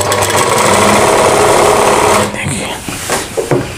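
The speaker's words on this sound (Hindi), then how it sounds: "तो इस प्रकार से हमें सिलाई स्टार्ट करना है।" A sewing machine stitches lehenga fabric in a loud, steady run that stops after about two seconds, followed by fabric handling and faint talking.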